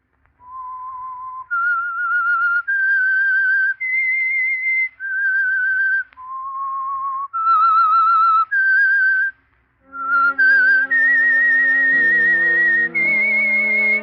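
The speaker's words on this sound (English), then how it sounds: "That whistle is your signal for the Signal Oil Program" A lone whistler performs the eerie theme melody of the old-time radio mystery program The Whistler, a slow sequence of clear sustained notes before a small orchestra joins in beneath the tune.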